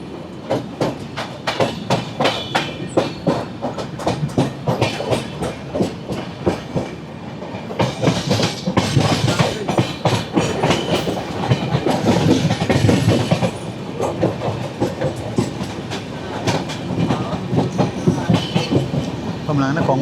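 Netravati Express train running along the rails toward the Konkan Railway, a steady loud rumble with rhythmic clickety-clack of wheels over joints, swelling midway, heard from inside the moving train.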